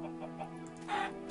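A chicken clucks in a video game, a few quick, close clucks over a steady background hum.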